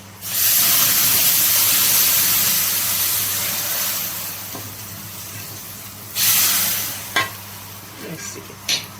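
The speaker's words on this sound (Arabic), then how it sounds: "ايه الطشه" Food hitting hot fat in a pan while cooking Egyptian trotters, a loud sudden burst of hissing sizzle that slowly fades, followed by another flare and a few clinks, no talk.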